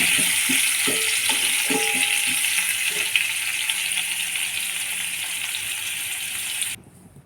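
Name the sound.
stirring food in a frying pan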